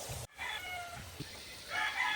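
Rooster crowing somewhere in a household kitchen, a short drawn-out call partly heard after a brief cut, moderately distant, with no one speaking over it.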